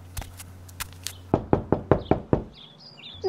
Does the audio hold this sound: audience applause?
no